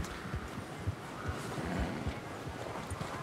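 Horse hooves clip-clop in a steady walking rhythm with low thuds in the video game Red Dead Redemption 2, over a dense, noisy background.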